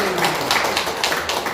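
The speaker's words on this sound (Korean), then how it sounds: "행복하게 잘 살도록 박수 한번 부탁드릴까요?" A church congregation claps during a Sunday worship service, a brief, close run of many hands clapping at a steady level.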